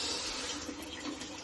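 Tap water runs steadily to keep a home distilling still cold, a continuous broadband rush of flowing water close by with no pauses and no voices.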